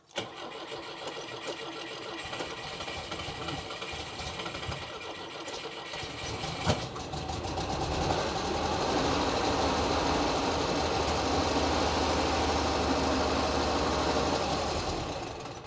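A Pinzgauer engine is started from cold without choke. Cranking is followed by a catch, and it settles into a steady, rough mid-pitched idle that stays loud to the end.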